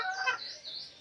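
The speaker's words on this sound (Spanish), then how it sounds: "Cuando una gallina empieza a cantar como lo hace Plumitas" A black Asil hen calls in a drawn-out, rising cackle that starts loud and close, then trails into softer sustained tones, with no voices over it.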